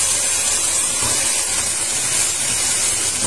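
A pressure cooker vents a loud, steady hiss of steam while mutton cooks inside with rice and potatoes, the broadband rush holding constant and close throughout with no voices.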